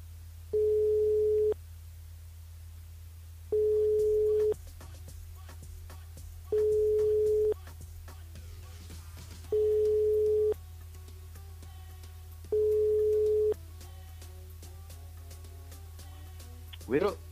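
A telephone line tone pulses five times in a steady on-off rhythm while a call is placed to a listener during a live radio broadcast, followed by a brief clatter as the line connects.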